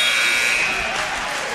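Basketball game buzzer at the end of play in a school gym, a loud sustained electronic tone with crowd noise and a commentator's voice over it.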